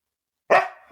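A dog barks once, loud and close, inside a small enclosed recording studio: a single sharp bark with a short ringing tail after a moment of silence.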